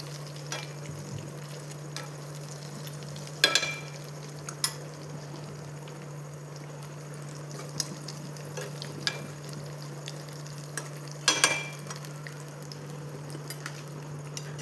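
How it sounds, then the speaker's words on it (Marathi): Batter-coated fish pieces fry in hot oil at home, giving a low, steady sizzle with scattered pops and a few louder crackling bursts, with no one talking. "ते माशाचे तुकडे त्या गऱ्यामध्ये असे डिप करून पूर्णपणे त्याला गऱ्याचं असं कोटिंग करून त्याला तळ्यात टाकलं होतं बघा असं तेलामध्ये"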